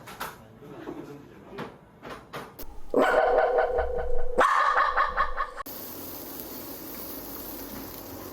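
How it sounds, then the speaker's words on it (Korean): A dog barks a few times near the start, followed by louder clattering and bursts of noise, then a steady hiss to the end. "고기 냄새 맡고 옆집 강아지 왔나 본데?"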